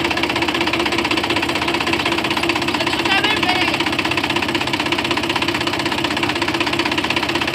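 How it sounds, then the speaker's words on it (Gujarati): A tractor engine runs steadily at close range on a farm, a loud, continuous chugging drone with a knocking diesel character and no break in the sound. "જો નવલભાઈ હાંકે છે ટ્રેક્ટર."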